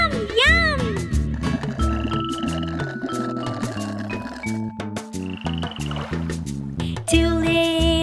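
Cartoon frog croaks sound within a children's nursery rhyme song about speckled frogs, with repeated ribbity calls set against bouncy music and sung melody, loud and close throughout.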